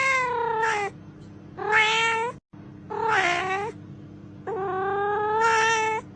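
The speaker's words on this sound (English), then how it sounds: "Is her kitty meowing?" A cat meows repeatedly at close range, four drawn-out, wavering cries separated by short pauses, loud and alone with no talking.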